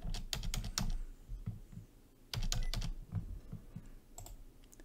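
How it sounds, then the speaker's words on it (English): Computer keyboard keys tapped in quick bursts on a Windows PC, clustered clicks near and distinct with short pauses between groups, no talking. "all we have to do is press Shift 4 times"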